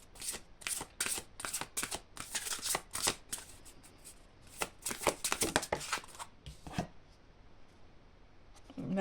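Oracle cards are shuffled by hand in quick bursts of crisp riffling and flicking, close and clear, with short pauses between rounds and no talking.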